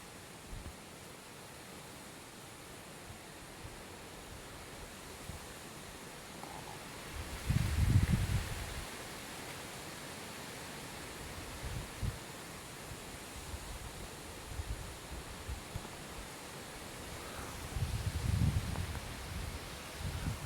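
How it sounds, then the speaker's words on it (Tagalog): Strong wind rushes through leaves at an outdoor hunting spot, a steady broad hiss that swells into louder gusts twice, with faint rustling throughout. "Grabing hangin."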